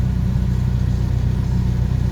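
A 2005 Dodge Neon SRT4 engine idles at a lean mixture, giving a steady, low, throbbing rumble with an even pulse that holds close and continuous throughout, with no voices.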